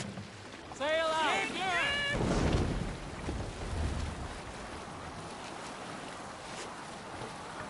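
A Viking longship sails out on ocean waves in Assassin's Creed Valhalla, with wind and rushing water washing steadily beneath a brief burst of calling birds and a loud splash.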